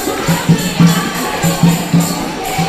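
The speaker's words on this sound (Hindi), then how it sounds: "वहाँ देख कितनी भीड़ हो रही भंडारे में।" A dense crowd gathers for a community feast (bhandara) at the Bala Sundari Mata temple, with a steady murmur of many people and a low, rhythmic pulsing that recurs roughly twice a second.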